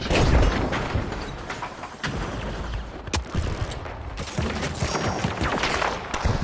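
Rapid gunfire bursts and heavy thuds from the competitive shooter game THE FINALS, dense and continuous with sharp transient cracks, loud and busy throughout the late stage of a match.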